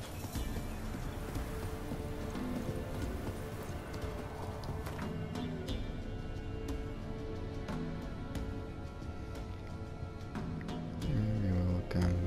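A horse galloping in The Witcher 3: Wild Hunt, rhythmic clip-clop hoofbeats running throughout over game ambience, with a brief whinny-like swell and heavier hoof thuds near the end.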